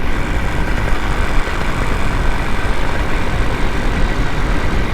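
Inside a helicopter flying through mountain turbulence near Tahoe, a loud, steady engine and rotor drone runs without a break, close and dominant throughout.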